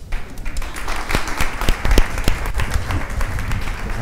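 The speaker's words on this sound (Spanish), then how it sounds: "aplausitos." An audience applauds at a live presentation, giving steady, moderately loud clapping that lasts about four seconds with sharp individual claps standing out and no talking over it.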